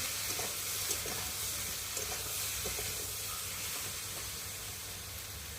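A vegetarian vegetable curry fries in a pan with a faint, even sizzle and hiss, while soft scrapes and taps of stirring come and go throughout, heard quietly and with no one talking.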